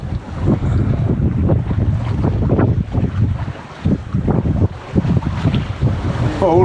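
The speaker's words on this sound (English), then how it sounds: "Got a bit of a squall. Wind's blowing fairly strong." Strong squall wind buffets a sailboat at sea, a loud gusting roar with rushing water and wind noise battering the microphone throughout.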